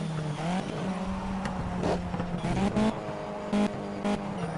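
Race car braking hard at Le Mans in the Project CARS video game, heard from the cockpit: the engine note drops over sharp downshift blips with squeals and skids, fairly loud throughout.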